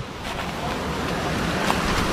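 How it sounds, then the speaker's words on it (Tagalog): Strong, steady rush of water at Malagaslas Spring in Laurel, Batangas, a broad continuous roar filling the whole clip at close range with no voices. "Napakalakas na ng tubig."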